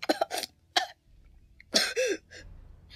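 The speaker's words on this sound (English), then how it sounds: "Link coughed and spat." A voice acts out Link from Majora's Mask coughing and spitting up water: several harsh, wet coughs and sputters in short, separated bursts, close and fairly quiet.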